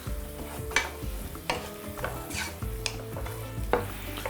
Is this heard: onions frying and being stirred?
yes